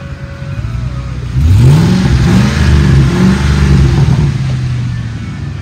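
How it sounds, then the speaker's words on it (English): A gas 5.4L V8 in a 2008 Ford F-250 XL crew cab pickup revs up from idle, the rising engine note swelling loud and close at around a second and a half and holding with a slight exhaust-leak rasp before easing back. "The motor sounds good. It revs up nice and it idles smooth."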